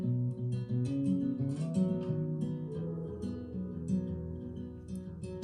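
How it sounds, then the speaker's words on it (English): Warm, mellow strummed chords from a 1934 Martin with old strings and a 1920s German parlor acoustic guitar, played in a steady, gentle rhythm with soft attacks and ringing sustain, quiet and close. "I have a 1934 Martin on it with old strings and a German parlor from the 20s"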